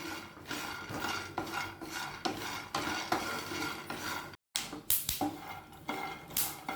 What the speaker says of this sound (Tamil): கடலை இப்போ லேசாக பொரிய ஆரம்பிச்சிச்சு.